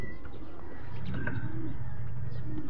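Racing pigeons cooing at a pooling loft, soft low coos against a steady rumbling outdoor background, no talking.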